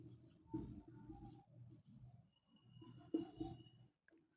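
Pen scratching on paper as someone writes out a maths equation, close and quiet, in short bursts with brief pauses between strokes.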